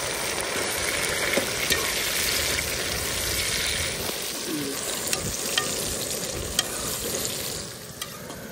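Onions, tomatoes and green chilies frying in a pan, a constant close sizzle with light stirring scrapes and a few clinks, no talking.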